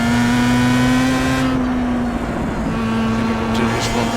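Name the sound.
car engine revving in sim racing video game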